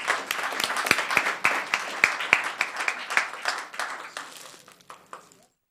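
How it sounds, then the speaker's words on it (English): An audience at a town council meeting in Los Gatos gives a round of applause, a burst of many hands clapping that fades to scattered claps and ends within a few seconds. "Let's give him a round of applause."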